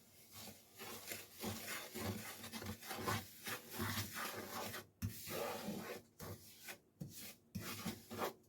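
Semolina stirred a little at a time into a batter of ground biscuit powder, a close, steady rubbing and scraping of spoon against bowl in uneven strokes with brief pauses, no talking.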